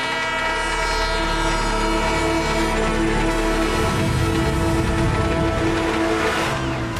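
A cartoon train rumbles steadily along its track, a loud continuous running noise with a horn-like tonal layer, heard alone without speech for the whole stretch.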